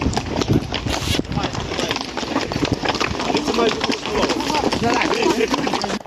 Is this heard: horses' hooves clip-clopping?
yes